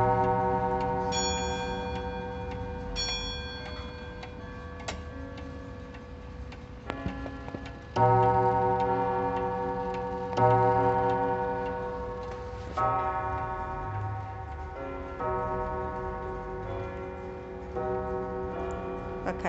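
An antique 1920s German Junghans gong wall clock ticks steadily and close by, with resonant gong tones ringing out and slowly fading over the ticking.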